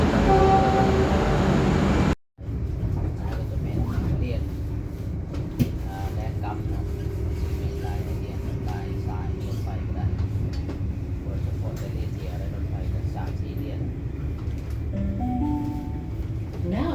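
A train rumbles steadily at Footscray station in Victoria, Australia, with clanks, squeals, a brief chime and an arrival announcement, while people talk faintly in the background.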